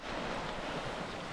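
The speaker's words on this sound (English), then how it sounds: "The Hoh River is flowing strong." The Hoh River in Olympic National Park rushes strongly, a dense, steady roar of fast-flowing water heard up close with no voices.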